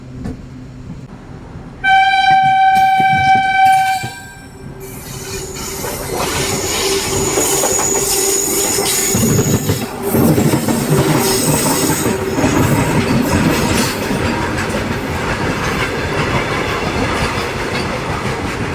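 A goods train rolls past on the right near Eluru, heard from aboard the Simhadri Express, with a long horn blast early on, then loud, steady wheel clatter and high squealing that carry on to the end.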